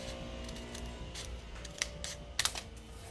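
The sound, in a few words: cutting thick paper with scissors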